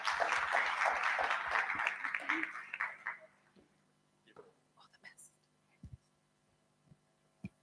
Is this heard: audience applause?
yes